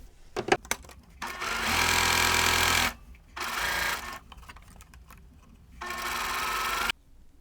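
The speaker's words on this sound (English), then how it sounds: "And I'm going to sew on the other side." An electric sewing machine stitches quilt fabric in three bursts of rapid, steady whirring, the longest about a second, with quiet handling clicks and pauses between runs.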